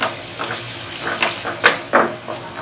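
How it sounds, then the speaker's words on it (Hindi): Onions sizzling in hot oil over a medium flame, a steady crackle with several brighter hissing bursts as pieces hit the pan, close and without talk. "तेल गर्म हो चुका है, इसकी फ्लेम मीडियम कर दीजिए और इसके अंदर प्याज डालिए।"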